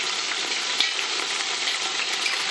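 Chicken pieces brown in a pot for soup, giving a steady, bright sizzle and crackle of frying that stays close and even throughout with no voices.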